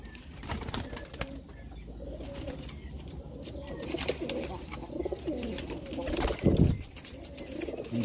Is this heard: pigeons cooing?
yes